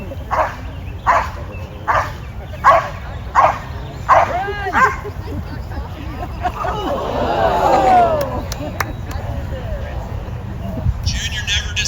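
A very small, fast dog barks in a series of sharp yaps at a charity run, about six evenly spaced barks near and loud over a crowd hubbub, then fading into chatter and whimpers.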